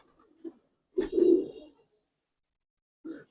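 A Giribaz pigeon of an old breed coos once, low and rolling, in a quiet loft, with a couple of fainter short calls before and after.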